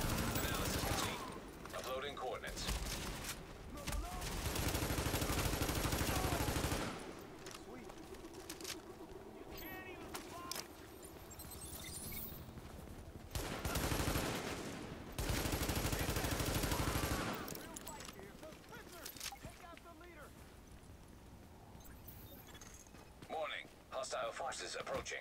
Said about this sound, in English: Taking small arms fire! Small arms fire!